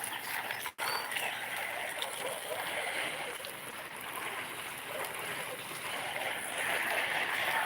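Garden hose watering potted onion chives, a steady broad hiss and patter of spraying water that runs continuously and close, with no talk.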